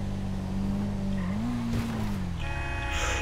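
A fast motorcycle in GTA 5 revs through city streets, its engine tone holding steady, then climbing and easing off as the rider opens the throttle. The engine is loud and close, with a brief squeal and noise near the end.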